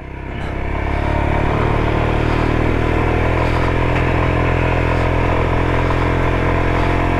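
Royal Enfield Himalayan motorcycle ridden on a steep, winding route, engine noise rising in the first second and then a loud, steady rumble with clattering mechanical noise, no talk.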